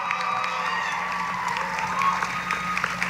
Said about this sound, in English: give yourself a round of applause for attending the in-person Rowdy Awards